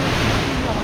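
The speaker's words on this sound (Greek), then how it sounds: "Εδώ κύματα." Sea waves wash steadily along the Mount Athos coast, a continuous close surf roar blended with wind buffeting the microphone, with no break across the short stretch.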